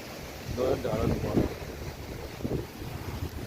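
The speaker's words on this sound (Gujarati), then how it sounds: "જો આજે બસ ચોફેર વિચાર્યો થાય આફર વાવાઝોડું ખતરનાક આવે" Strong storm wind from an approaching cyclone blows across the microphone in buffeting gusts, a loud rough roar that swells and eases, with a voice briefly mixed in.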